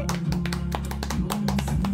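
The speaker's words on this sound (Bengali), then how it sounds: "হাততালি দাও, হাততালি।" Hands clap in a quick, uneven series of sharp, close slaps, layered over a steady low hum.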